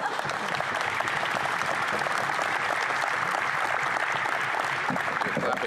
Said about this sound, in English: You're clapping a little bit too loudly at that.